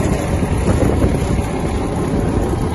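Kubota T-22 Japanese mini tractor turning on the spot, its engine a steady loud rumble with wind buffeting the microphone throughout.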